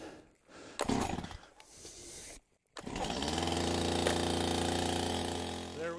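A few sharp rattling pulls of a Stihl chainsaw starter cord in the cold, followed by the engine catching and running with a steady buzzing drone.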